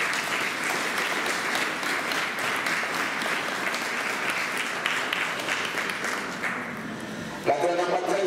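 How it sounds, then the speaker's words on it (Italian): An outdoor crowd at a living nativity scene applauds Angela Mancuso, warm continuous clapping that fades toward the end as a voice begins over a microphone. "Un applauso di cuore perché ha riscosso grande successo Angela Mancuso."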